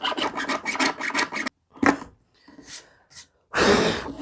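Small plastic hand drill turning into a workpiece, producing bursts of dry rasping and grinding with short pauses between them, loud and close.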